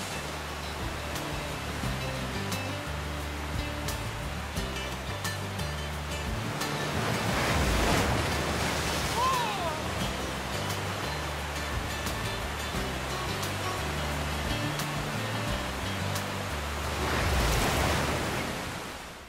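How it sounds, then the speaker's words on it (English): Whitewater rapids and falls on the Colorado River roar as a steady, broad rush of churning water, with the surge swelling louder around the middle and again near the end, with no voices. "The rapids and falls of the Colorado River are a whitewater rafter's dream."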